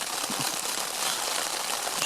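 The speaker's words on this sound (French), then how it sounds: "comme vous pouvez entendre, il pleut." Rain falls steadily on a tent during a stormy night on the Lofoten islands, a dense, constant patter close by with no pauses.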